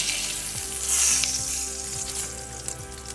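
Salmon fries in a hot pan for a creamy salmon Alfredo pasta, giving a steady, close sizzle that runs the whole time with no voices over it.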